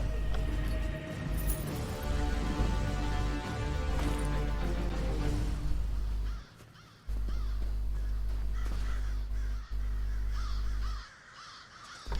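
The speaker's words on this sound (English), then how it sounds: "I wonder why all these birds are here." Crows caw repeatedly in The Elder Scrolls Online, harsh calls layered over a loud low game ambience that drops out briefly a few times, with no speech over them.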